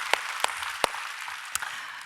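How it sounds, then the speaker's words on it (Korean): Church congregation clapping in thanks, a soft wash of applause with a few sharp, close claps popping out at irregular intervals. "우리에게 은혜 주시는 좋으신 하나님께 박수로 감사합니다."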